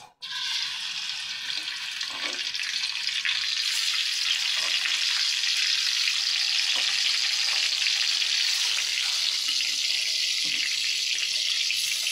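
Pork fries in oil with a steady, even hiss and crackle that runs unbroken for about twelve seconds at moderate loudness, with a few soft knocks underneath and no talking.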